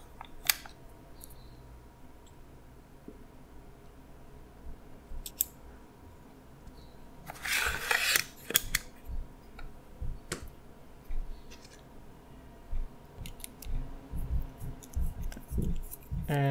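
Driver bit being swapped from 1.5 to 2 during an Axial Capra RC crawler front axle build: sparse small plastic and metal clicks and ticks near by, with a brief louder rattling burst partway through, in a quiet room.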